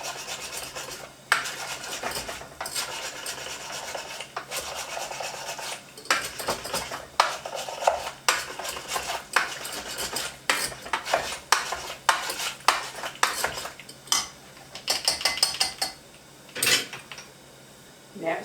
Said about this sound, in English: Get the mustard mixed in real good with it.